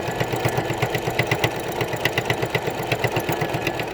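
A sewing machine topstitching across fabric for a mask, heard as a steady rapid mechanical chugging with an even rhythmic pulse, close and continuous throughout.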